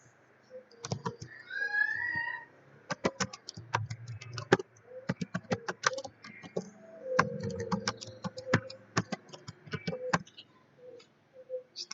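Keys on a computer keyboard clatter in quick, uneven bursts of sharp clicks while text is typed in Photoshop, close up and fairly quiet, with a brief murmur of voice at the start.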